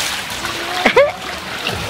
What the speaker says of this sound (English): Run towards him and splash.